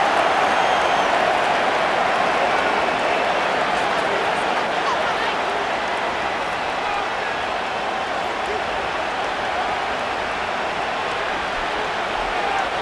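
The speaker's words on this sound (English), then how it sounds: "The crowd cranking it up another notch before 3rd and long." A stadium crowd in the American football video game Madden NFL 25 roars in a steady, dense wash that holds at an even level for the whole stretch, with no clear voices above it.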